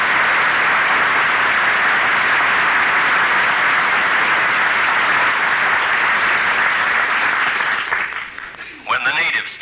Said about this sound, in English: I thought I heard people applauding.